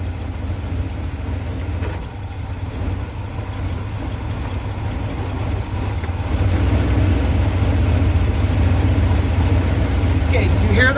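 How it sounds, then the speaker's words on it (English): Old truck engine idling roughly while in gear, a steady low rumble that grows slightly louder and heavier partway through, with a faint voice over it. "I just took it for a spin and it is running terrible. It's idling."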